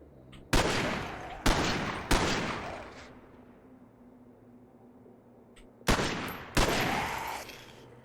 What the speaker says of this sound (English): We're all chasing the gunfire.